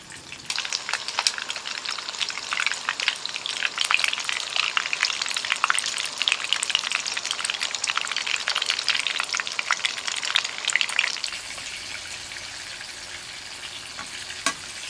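Eggplant pieces frying in hot oil for a spicy sambal balado dish, a steady crackling sizzle with fine spattering pops that grows busy and then quiets down near the end, with no voices.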